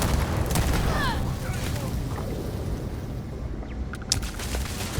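Starfield turret gunfire booms and crackles in rapid bursts through a loud, dense game mix, with sharp reports near the start and again toward the end.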